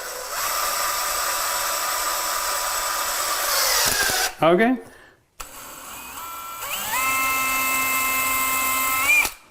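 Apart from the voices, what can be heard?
power drill pre-drilling a pilot hole with a 1/16 bit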